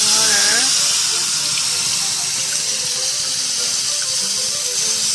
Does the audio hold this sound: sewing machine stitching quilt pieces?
no